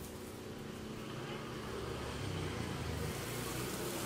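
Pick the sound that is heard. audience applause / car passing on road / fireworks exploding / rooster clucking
car passing on road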